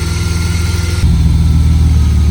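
A BMW E34 with an M50 engine idling slightly rough, a low, steady rumble close by, its tone shifting slightly about a second in.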